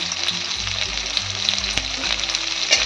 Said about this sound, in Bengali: পেঁয়াজটা তেলে দিয়ে দিয়েছি